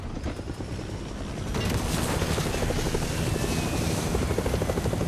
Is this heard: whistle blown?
no